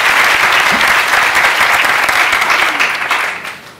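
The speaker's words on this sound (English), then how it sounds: "Please do give him a hand of applause." An audience applauds a young poet at a Harambee youth event. Loud, dense clapping holds steady for about three seconds, then tapers off quickly at the end.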